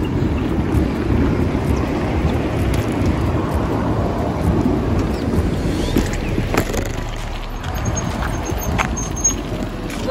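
Steady heavy rain roars continuously with a low rumbling undertone, loud and close, with no voices.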